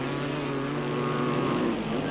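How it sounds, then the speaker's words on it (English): Racing motorcycles, including a 250 Suzuki and a Honda 330, roar past a grandstand at a 1997 circuit race, a loud sustained engine drone with shifting pitch and no talk. "Struwig on his 250 Suzuki moved up to second in front of the grandstand."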